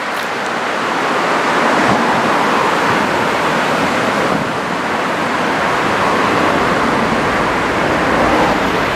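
Waist-high surf breaking continuously on a long beach at Zaimokuza, Kamakura, during a typhoon swell: a steady, loud, broadband wash of waves with no talk.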